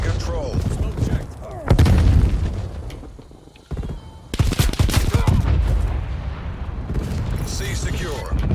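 A Semtex grenade detonates in an online shooter match, with heavy, loud booms and crackling gunfire-like blasts amid dense battle noise, while voices call out over the action.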